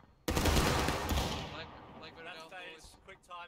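A massed musket volley fires on command in the Civil War battle game War of Rights, a loud, sharp crash of many shots that rolls into a ragged decay, followed by scattered shouting voices.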